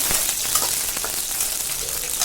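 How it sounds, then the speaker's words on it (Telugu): Green chilies, curry leaves and turmeric frying in hot oil give a steady, close, bright sizzle with small crackles and no talking. "మొత్తం ఫ్రై అయిపోయిన తర్వాత ఇంకా అందులోనే కొంచెం కరివేపాకు, పసుపు"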